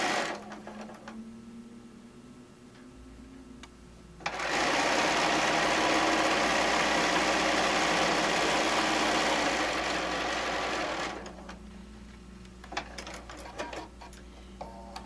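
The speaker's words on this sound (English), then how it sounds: "we'll sew right from one over to the next" A sewing machine stitches quilt strips in one steady, loud run of about six seconds, starting and stopping sharply, with quieter handling noise before and after.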